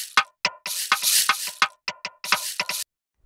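An unquantized drum loop plays in a music production program, with loose, uneven hits and bursts of cymbal wash in an irregular groove, ending in silence.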